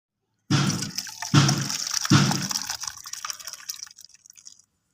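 Boiled spinach being poured out of a pot, water splashing in three quick close pours followed by trickling and dripping that fades away.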